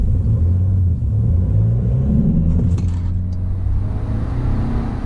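Tuned Nissan NP300 Navara diesel pickup launching off a drag strip staging line, a loud steady engine rumble and drone close by with a brief chirp of tyres near the start.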